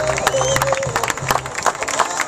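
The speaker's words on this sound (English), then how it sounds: "Let's give a nice round of applause for number 24," A crowd at a high school baseball senior appreciation day claps and cheers for a pitcher, with scattered claps and cheers under a voice talking over a loudspeaker.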